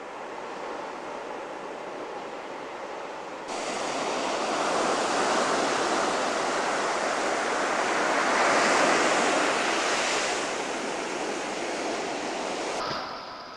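Waves breaking on a beach at dawn, a continuous broad rushing surf that swells louder midway and holds steady, with some wind buffeting and no voices.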